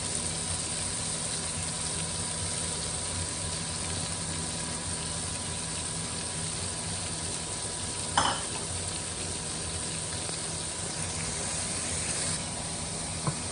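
Cabbage, red peppers and green peas saute in a pan for fried cabbage, a soft steady sizzle and hiss with one brief scrape of stirring partway through.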